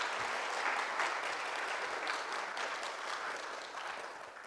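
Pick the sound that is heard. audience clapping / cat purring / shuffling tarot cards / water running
audience clapping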